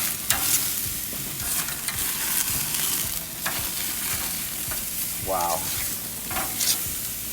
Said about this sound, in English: We're just gonna flip the steak.